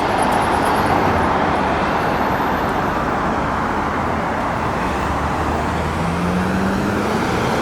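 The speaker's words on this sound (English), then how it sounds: "you'd have to guess from the sound of the traffic" Steady, loud road traffic rumbles along a Denver city street, cars and heavier vehicles passing in a continuous wash of engine and tire noise.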